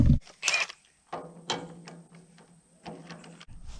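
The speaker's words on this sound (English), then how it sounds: "got to change the wheel right here on a loaded trailer in a curve coming up a hill" Hand tools clank and ratchet while a wheel is changed on a loaded farm trailer stopped in a curve on a hill, with a few separate metallic clicks and short bursts over a quiet low hum.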